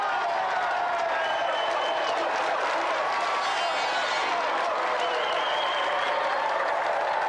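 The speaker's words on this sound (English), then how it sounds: "Okay then, let's have another round of applause for Mike Bedford and the reigning champion, Thomas Patterson." A studio audience at a TV game show applauds steadily, a dense, even wash of clapping that holds for the whole stretch.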